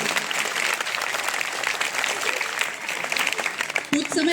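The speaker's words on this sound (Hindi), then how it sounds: "उनके लिए एक बार जोरदार तालियां हो जाए।" Audience at a school function applauding a children's performance, a dense, sustained burst of clapping from a crowd, fairly close, with a brief voice near the end.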